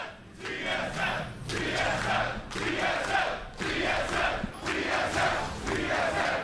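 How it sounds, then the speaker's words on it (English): Esports crowd at a League of Legends semifinal chanting for TSM, rhythmic roaring bursts repeating about once a second, loud and filling the arena, with little talk over it. "TSM chants always strong here."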